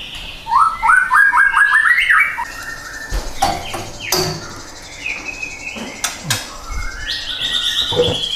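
Many pet birds kept together inside a house chirp and trill in overlapping bursts, bright rapid twittering close by, with occasional knocks and clatter around them.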